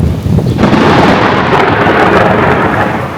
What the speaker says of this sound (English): there's the most insane thunderstorm that just is hammering us right now